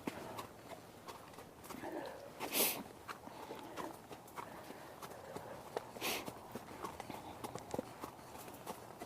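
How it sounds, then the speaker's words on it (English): Faint, distant hoofbeats of a ranch horse clop in a loose steady rhythm outdoors, with a couple of louder scuffs among them. "the sound of hoofbeats is just crazy, crazy cool"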